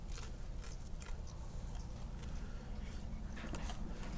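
Someone bites and chews Lao spicy raw beef larb close to the microphone, with wet, crunchy mouth sounds coming in repeated bursts over a low background rumble.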